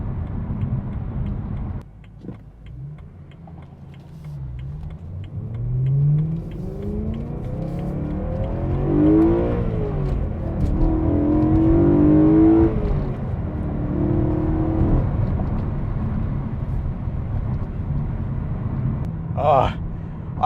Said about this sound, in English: you can give it a couple downshifts and you hear this amazing 8-cylinder engine